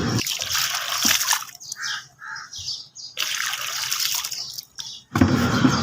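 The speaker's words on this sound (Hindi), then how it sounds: "उसमें पानी डाल के दे रहे हैं ताकि वो भी इसमें जो कचरा है वो भी साफ़ हो जाए" Water poured into the indoor drain of a split air conditioner to flush out dirt, heard as repeated close splashing and trickling bursts broken by short pauses.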